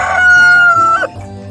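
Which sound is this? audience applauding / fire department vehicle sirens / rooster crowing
rooster crowing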